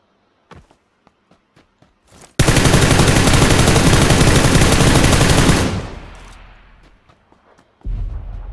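Sustained burst of automatic gunfire in PUBG Lite on the Erangel map, loud and continuous for about three seconds before trailing off, preceded by scattered single clicks or steps.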